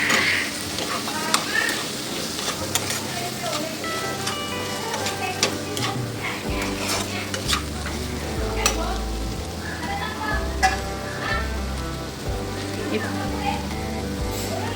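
Potato pieces stir-frying in oil with masala for a dry cauliflower-potato bhaji crackle and sizzle up close, with repeated spoon scrapes and taps against the pan forming a loose ticking rhythm.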